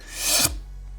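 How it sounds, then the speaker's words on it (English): A sharp airy whoosh swells for about half a second, then cuts off abruptly with a low thump, leaving faint room tone. "then just stops and you get the suck sound"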